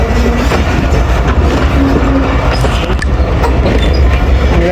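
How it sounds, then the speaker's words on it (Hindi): A Pakistani express train, the 40 Down Jaffar Express, rolls past up close with steady, loud clickety-clack of wheels over rail joints and a continuous rumble of passing carriages, with no talk. "और 40 डाउन जाफ़र एक्सप्रेस है।"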